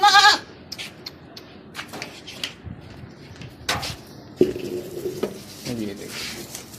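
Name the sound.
goats bleating, waiting for feed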